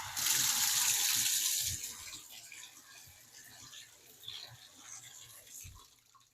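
Water gushes loudly from a faucet into a bathtub fitted with a new drain and overflow plate, strong for about two seconds and then cut to a quieter trickle with faint splashes and drips.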